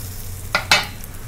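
A pan of onion, green chili and crushed garlic sautés quietly, with two short sizzling bursts from stirring.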